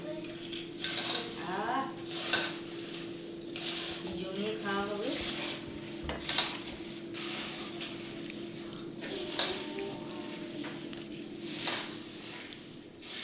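Puffed rice being mixed by hand with fried snacks such as onion fritters and salt in a bowl, giving soft rustling and clinking of dish and utensil under steady background hum, with faint voices at times.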